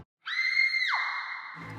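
A person screams on the canyon swing at Shotover in Queenstown: one long, sustained high-pitched scream that bends downward partway through and fades, heard from a distance in open air.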